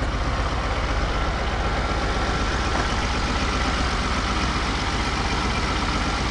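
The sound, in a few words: Oliver 1550 tractor engine idling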